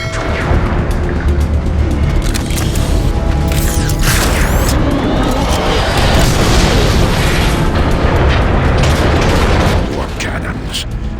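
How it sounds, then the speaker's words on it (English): Cannon fire and explosions in the video game Transformers: Fall of Cybertron, a loud, dense barrage of booms and crashing blasts that continues for about ten seconds before easing slightly at the end. "More cannons."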